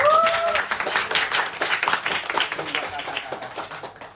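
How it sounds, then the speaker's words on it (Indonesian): A high-school classroom breaks into applause for a student group, a dense patter of clapping that gradually thins out, with a voice speaking over it at the start. "beri aplaus semuanya"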